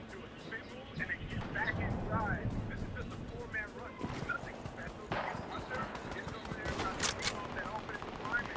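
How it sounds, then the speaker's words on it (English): Video game gunfire crackles in rapid bursts and scattered shots across a rocky area, continuous and moderately loud beneath players talking. "They're shooting up top in the rocks."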